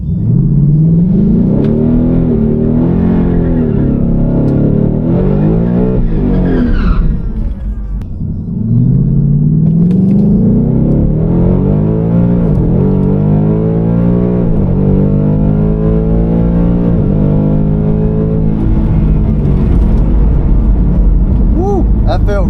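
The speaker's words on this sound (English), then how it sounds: "Car seemed to leave a little harder." A Coyote V8 car launches hard down a drag strip with a torque converter, its engine roaring loud and close as it climbs through the revs, dips briefly at a shift, then pulls hard again with a deep rumble.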